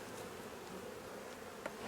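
Honeybees hum steadily during a summer honey harvest at the hive, a faint, continuous buzz of many insects with no talking and one brief small knock near the end.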